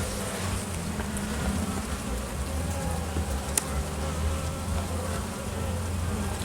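Honeybees buzz around a hive as foragers return carrying pollen, likely from a neighbour's flowering dogwood, at a colony that suffered Asian hornet attacks; a dense, steady hum of many wings fills the scene without pause.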